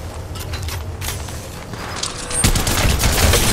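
Gunfire in the video game Apex Legends comes as rapid bursts of shots with mechanical clicks, close and fairly loud, growing denser in the last second.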